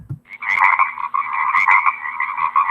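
A frog croaking sound effect used as a wrong-answer cue in a lesson. One steady, buzzing croak rattles on for about two and a half seconds, loud and clear with nothing else behind it.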